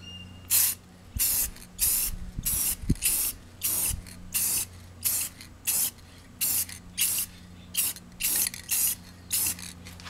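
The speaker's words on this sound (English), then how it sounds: "now I'm going to mask it off and be ready to spray" A spray can applies clear coat to a car part in a series of about a dozen short, even hissing bursts separated by brief pauses, close and fairly loud, with faint mechanical clicks early on.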